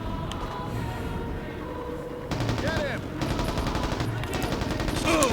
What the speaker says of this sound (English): I am under heavy enemy fire.